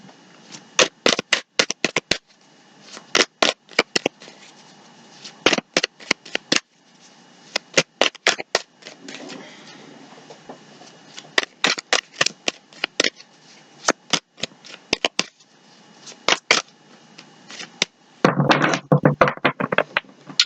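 Tarot cards being shuffled by hand, repeated crisp riffling bursts in quick rhythmic runs separated by short pauses, close and loud with no speech over them.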